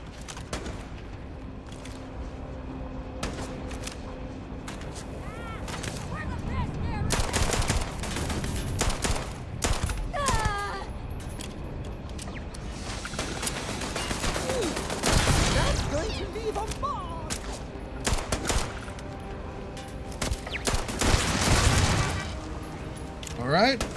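Video game battle with rapid bursts of gunfire and crackling shots, booms and explosions, dense and loud for much of the stretch, with a player talking at times.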